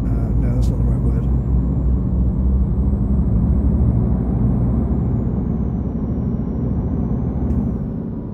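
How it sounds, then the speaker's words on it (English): A DAF XF truck engine is being revved to the redline in Euro Truck Simulator 2, producing a loud, steady, dense low-pitched rumble with no breaks, and a faint high whine riding above it throughout. "Even though I'm redlining the truck, it doesn't sound like I'm putting it under any stress or pressure at all."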